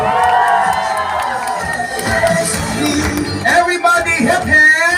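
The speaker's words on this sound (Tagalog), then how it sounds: "Samahan niyo pa ng malakas at masayang sigawan!" Guests at a wedding reception cheer, whoop and shout together in a loud, sustained burst of crowd noise, with voices rising and overlapping throughout.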